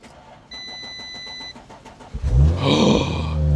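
A stolen Audi RS4 with a fault beeps steadily before the starter catches, then the engine fires and settles into a loud, rough idle up close.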